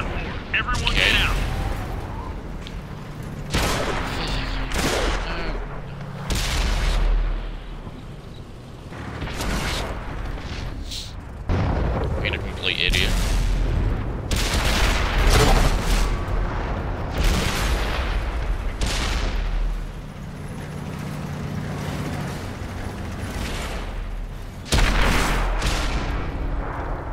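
Tank cannons firing premium ammo in World of Tanks on Xbox One, a long run of heavy booming shots and blasts at irregular intervals, loud and close, mixed with game mechanisms and voice chat.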